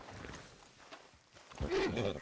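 Horse in Red Dead Redemption 2 snorting and stamping, soft hoof clops and breathy noises building to a louder flurry near the end, with faint talk in the background.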